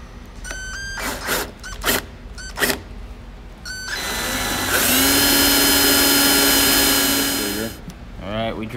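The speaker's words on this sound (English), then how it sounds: "So we are going to drill." A power drill boring a 7/8-inch hole for a rear antenna in a 1969 GTO convertible, a few short bursts and then a long loud continuous whine, with people talking nearby.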